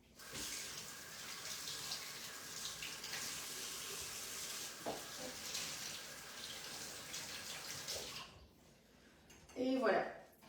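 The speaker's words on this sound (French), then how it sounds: "Donc je vais vite les rincer sous l'eau" Potatoes rinsed under a running kitchen tap: a steady broadband water rush fills about eight seconds, then cuts off, followed by a brief louder splash or clatter near the end.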